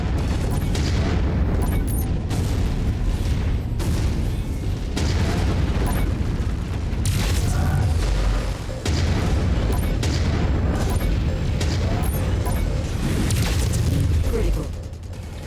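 Explosions and booms from mech combat in the MechWarrior 5 video game, a dense, continuous loud wall of blasts and mechanical rumble running throughout with repeated bursts.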